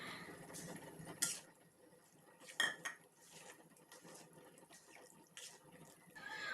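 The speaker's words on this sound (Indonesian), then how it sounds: "Kemudian aduk sampai tepung terigunya tercampur." Faint scraping and clinking of a utensil stirring wheat flour into dough in a pan, with a few sharper metallic taps against the pan between softer scrapes.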